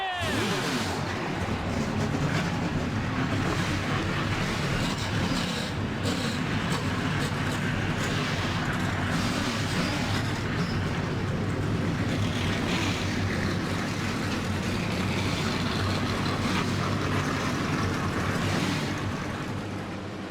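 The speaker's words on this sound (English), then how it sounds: "Drivers, start your engines!" Simulated race car engines fire up in NR2003 at Eldora's dirt track, merging into a loud, continuous roaring drone that holds steady for about twenty seconds.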